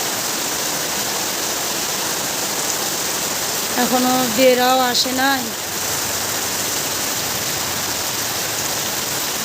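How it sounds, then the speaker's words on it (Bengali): Heavy rain pours down during a sudden afternoon storm, a loud, steady roaring wash throughout, with someone speaking briefly over it midway. "কি জোরে নামছে বৃষ্টিটা"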